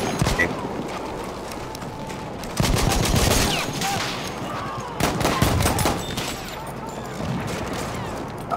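Rapid gunfire and bursts of automatic weapons in the video game Battlefield 1, Conquest mode on the Amiens map, sounding loud and close with heavy overlapping volleys in several waves.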